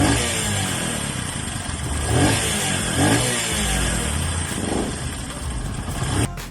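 A noisy Bajaj Boxer 150 motorcycle with a loud, rattling engine runs steadily up close for several seconds, its drone rising slightly in a few brief revs before cutting off abruptly at the end.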